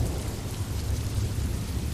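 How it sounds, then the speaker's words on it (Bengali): Steady rain falls outside with a dense, continuous hiss and a deep low rumble of thunder underneath, constant and fairly loud throughout, no voices. "বাইরে বৃষ্টি পড়ছে"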